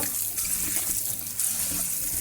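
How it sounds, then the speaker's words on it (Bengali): Tap water runs steadily into a kitchen sink while garlic cloves are rinsed under the stream, a close, continuous splashing hiss with no talking. "এখন রসুনগুলো ধুবো"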